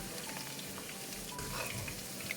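Chicken pieces for popcorn chicken deep frying in oil at medium heat, a steady dense sizzle and crackle that fills the whole moment with no talking.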